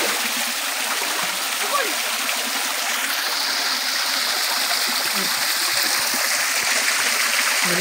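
A small waterfall pours into a flowing stream, giving a loud, steady broadband rush of splashing water that fills the whole stretch, with a faint voice briefly audible under it.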